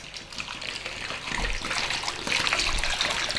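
Water gushes and splashes into a bowl of raw potato chips, a steady pour that builds louder over a few seconds, close and alone with no talking.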